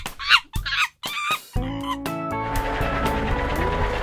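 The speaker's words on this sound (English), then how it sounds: "A monkey." A monkey chattering in a few sharp, high hoots and screeches, loud and close, followed by a children's song with music.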